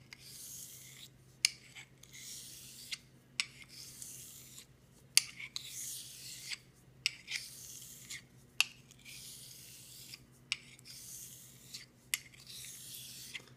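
A straight razor honed with X strokes on a barber's hone gives soft, steady rasping strokes in a regular rhythm, each ending in a faint sharp tick, close and alone with a low background hum.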